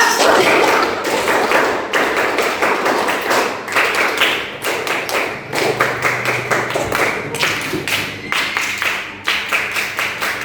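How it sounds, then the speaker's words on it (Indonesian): Indonesian schoolchildren perform the Pramuka scout clap together, sharp rhythmic group claps in patterned bursts with short pauses between sequences, loud and close in a classroom. "Sekali lagi kita belajar tepuk tangan pramuka, oke?"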